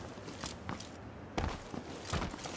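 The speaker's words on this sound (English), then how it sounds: "I might have heard footsteps." Footsteps in the video game PUBG thud softly at an irregular pace beneath a steady noisy game background, fairly faint, with no talking.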